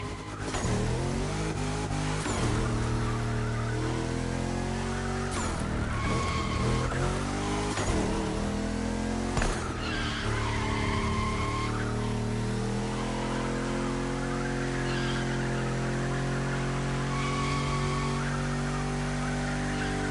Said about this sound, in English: That's right, keep drifting.